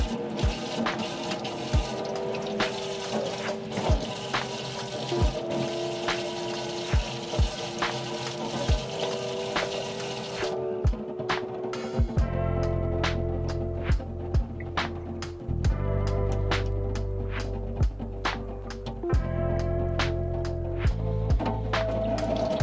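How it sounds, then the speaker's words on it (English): Water pours from a watering can or tap onto dry potted houseplants, a steady splashing and trickling stream that changes character partway through as it runs into the soil, with no talking. "I'm gonna give them a good water now because they both look quite dry."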